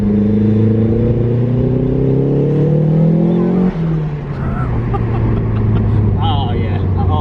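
A Mazda MX5 fitted with an M2 Motorsport exhaust revs loudly and rises in pitch, then drops back to a lower steady drone, heard close up while people talk over it.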